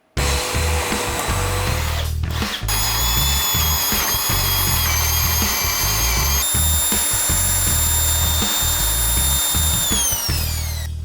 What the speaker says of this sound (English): we're going to drill from the bottom through the top plate and through the plywood